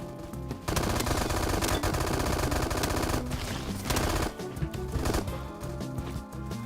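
Rapid automatic gunfire in the Roblox shooter Bad Business, loud and sustained in dense bursts with brief pauses between, a rifle firing continuously with no talk.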